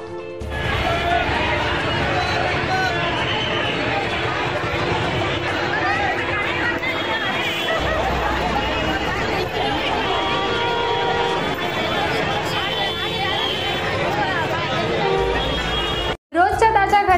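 A dense crowd of construction workers gathered for registration in Dhule makes a continuous, loud babble of overlapping voices and movement, close by and unbroken until a brief cut near the end.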